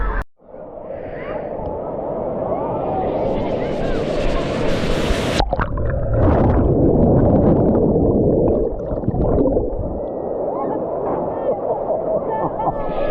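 Wave pool surf at a Walt Disney World water park in the evening, a heavy rushing churn of water that swells and surges close by for several seconds, with muffled underwater-like rumbling and brief voices.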